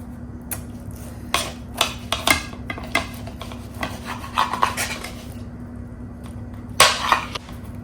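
A bread knife saws through a salmon and crab claw burger in several rasping strokes, close and distinct, with short pauses between bursts and no talking.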